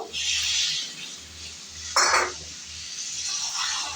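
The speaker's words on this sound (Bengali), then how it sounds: "গাজর দিয়ে মশলার সাথে ভালো করে মিক্সড করে সামান্য জল দেব" Carrots being mixed with spices in a pan for a pea and carrot curry, heard as a close scraping stir over a light sizzle, with one louder clatter of the spoon against the pan partway through.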